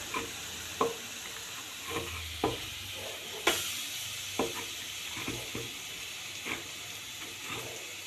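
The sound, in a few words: mushrooms lightly frying in a pan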